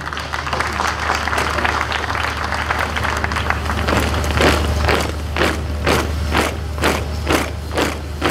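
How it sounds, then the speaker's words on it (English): Applause at a Nigerian Navy Basic Training School passing out parade, steady clapping from an outdoor crowd over a low hum, with sharper rhythmic claps standing out toward the end. "Another round of applause for this display."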